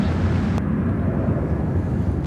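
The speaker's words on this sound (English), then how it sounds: "Taking off to Detroit on the E170." An Embraer E170 airliner takes off, a loud, steady low roar of engine and rushing air heard from close inside, with no voices.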